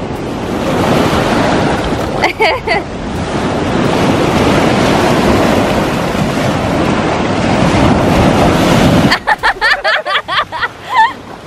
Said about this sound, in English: A big wave.